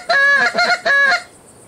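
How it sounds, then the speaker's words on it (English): Geese honking in the hunting video game Hunting Simulator 2, three loud, close, nasal honks in quick succession, then quiet. "I can hear the geese right over that berm"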